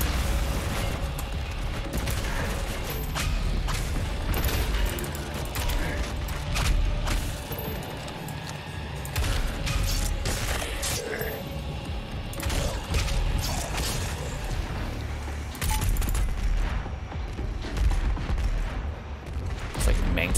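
Mancubus cannon wall trap firing in DOOM Eternal, loud rapid bursts of heavy blasts and booms repeating throughout over dense game combat noise and music.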